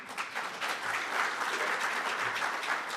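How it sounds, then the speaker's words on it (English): An audience clapping hands at a conference on women, peace and security, a steady dense round of applause from a large room. "Can we clap hands for that?"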